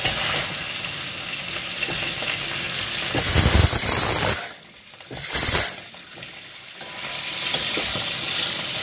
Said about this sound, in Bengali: আমার তেল গরম হয়ে গেছে, মাছটাকে ভাজি।